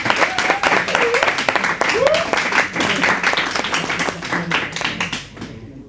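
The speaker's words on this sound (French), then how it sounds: "on vous applaudit" Audience applause on a French television talk show, a dense, steady patter of clapping that fills the whole stretch, with voices speaking over it before fading near the end.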